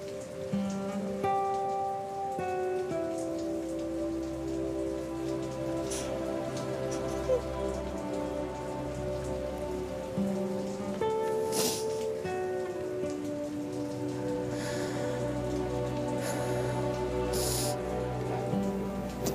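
Steady rain falls on surfaces throughout, a continuous close patter with music playing over it.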